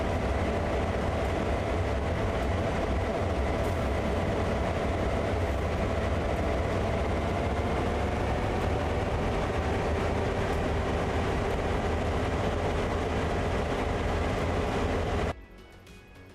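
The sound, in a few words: locomotive train moving, from video game Train Sim World 3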